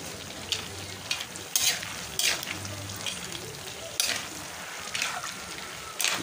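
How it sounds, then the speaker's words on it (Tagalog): Garlic sizzles and crackles in hot oil while cooking skinless peanuts, with bursts of stirring and scraping in the pan, close up; a few quiet words are spoken. "Kumukulo na. Ibig sabihin yan, naluluto na yung bawang natin."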